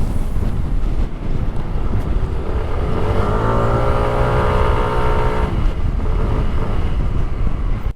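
A Kymco Dink R 150 scooter rides with the throttle opened, its engine rising in pitch from a steady drone under heavy wind rush, then settling back as the wind noise continues.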